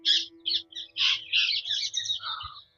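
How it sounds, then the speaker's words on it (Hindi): Birds on a hillside call in a quick series of harsh squawks and chirps, close and clear, over a faint low hum. "पक्षी की चहचहाहट है यहाँ पे"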